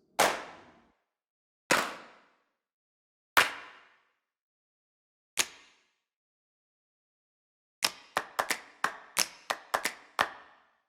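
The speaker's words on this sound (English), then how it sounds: "We now have an entire page dedicated to solo and ensemble claps," Sampled hand claps from a percussion library: four single solo claps, spaced well apart, each with a short decaying tail. A quick run of about eight sharper ensemble claps follows in an irregular rhythm.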